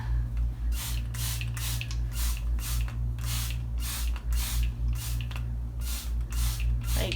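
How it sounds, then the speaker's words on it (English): A spray bottle mists water onto hair in a long run of quick, evenly spaced hissing bursts, close and loud, repeating steadily over a low background hum. "why is she spraying so much?"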